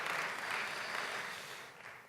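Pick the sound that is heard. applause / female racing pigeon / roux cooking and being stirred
applause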